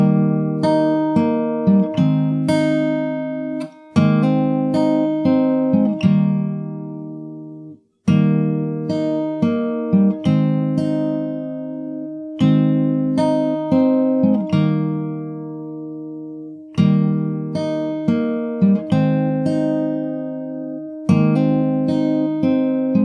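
Acoustic guitar playing the verse of a song from The Last of Us Part II: plucked chord patterns in repeating phrases, each ringing and decaying before the next, close and clean with no talking.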